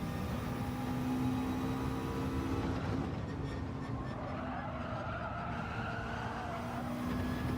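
A race car in Gran Turismo 7 drives around a track with a steady engine drone, bouncing along the surface, fairly quiet and continuous throughout.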